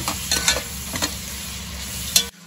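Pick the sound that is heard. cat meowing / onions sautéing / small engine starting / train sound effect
onions sautéing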